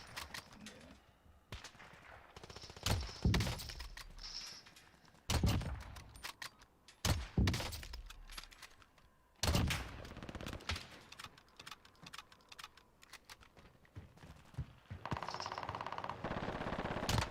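Type 100 submachine gun in a video game firing in several sharp bursts of rapid automatic shots, separated by quieter stretches of ambient game noise.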